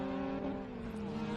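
A race car at the Winton 300 accelerates hard up the back straight out of a sharp right-hand corner. Its engine drone is steady and fairly loud throughout, mixed with track noise and no talk.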